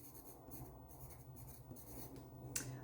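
A brush or pen writes the word flood on watercolor paper, making soft, close scratchy strokes in several short bursts separated by brief pauses, all quiet and with no talk.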